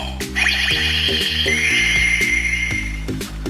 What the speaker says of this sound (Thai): เสียงที่เป็นเสียงของเอฟเฟกต์ของกาแชท DX ทั่วไปนะครับ